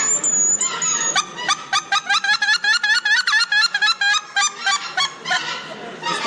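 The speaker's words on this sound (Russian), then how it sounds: "Я не слышал, чтобы так гуси кричали." Geese at a hunting and fishing exhibition honk in a loud, rapid run of repeated calls, close by, after a brief high tone at the start.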